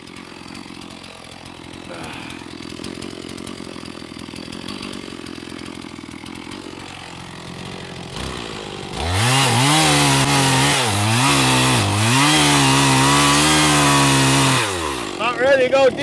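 A chainsaw cuts a tree stump flush with the ground in the woods, idling low at first, then revving loud and steady for several seconds with the pitch wavering as the bar bites in, before dropping off near the end.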